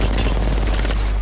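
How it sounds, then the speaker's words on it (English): A frag grenade detonating during an Apex Legends firefight, heard as a loud, deep, sustained boom with rumbling low end over about a second, with no talk. "hit him with the nade"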